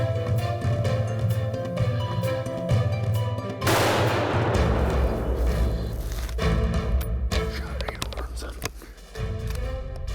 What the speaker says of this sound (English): I'm like, Jason, shoot him again.